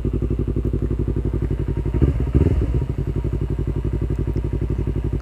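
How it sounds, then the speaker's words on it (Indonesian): A 2019 Yamaha R25 motorcycle idles with a rapid, even pulsing thrum, then the revs rise briefly in a short burst as it moves off before settling back to a steady chugging beat, close and loud. "sekarang saya akan coba jalan ya untuk merasakan motor ini"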